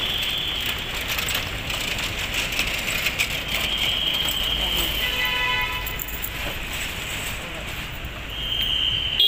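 A train rumbles past with a steady mechanical wash and high squealing tones, heard from nearby outdoors with faint traffic around.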